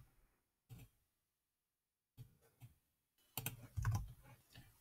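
Short bursts of keystrokes on a computer keyboard as a material name, steel 1020, is typed into design software, with quiet gaps between clusters and a denser, louder run of clicks near the end.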